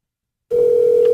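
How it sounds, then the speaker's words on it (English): A telephone line sounds after a half-second of silence: a loud, steady single electronic tone, like a ringback tone, held continuously to the end with no voices. "The phone is ringing."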